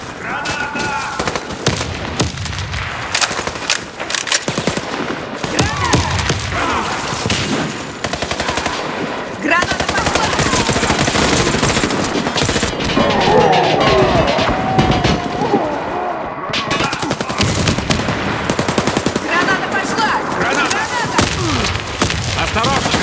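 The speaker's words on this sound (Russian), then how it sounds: "Кидаю гранату!" Rapid automatic gunfire and heavy booms, including a thrown grenade, in the online shooter Warface; bursts of shots rattle almost continuously for over twenty seconds at a loud, dense level.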